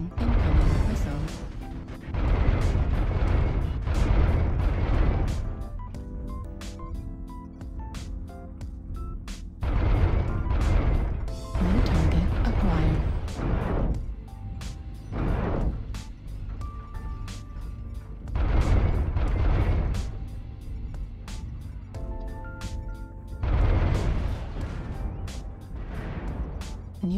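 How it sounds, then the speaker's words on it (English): Artillery strike explosions in the MechWarrior Online game, played as a Mad Cat MK II battlemech: repeated heavy booming blasts in rolling waves, loud and close, with rumbling decay between impacts. "Artillery strike activated."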